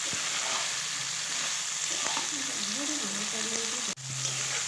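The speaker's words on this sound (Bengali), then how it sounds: "তো এখন আমি ভালো করে কষে নিচ্ছি।" Potatoes and pointed gourd being stir-fried with fish oil in a pan, giving a steady close sizzle with scraping stirs, briefly interrupted near the end before the frying resumes.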